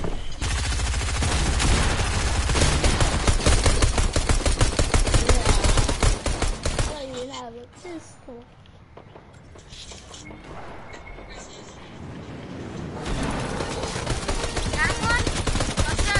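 Rapid bursts of gunfire in a shooter video game with pistols, loud and dense for several seconds, dropping away mid-clip amid other game noise, then resuming heavily near the end.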